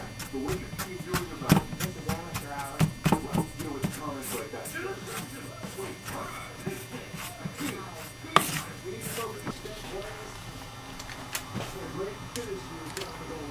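Apple crisp topping being mixed in a bowl with brown sugar, lumps broken up by a utensil: repeated scraping, tapping and crumbly rustling clicks, close and uneven, with a person talking over it.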